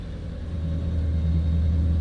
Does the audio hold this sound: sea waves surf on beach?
no